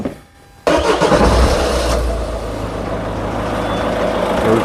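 A Peugeot 207 car that failed its roadworthiness inspection starts up close by: after a brief hush the engine catches abruptly and loudly, then settles into a steady, rumbling idle with no talking.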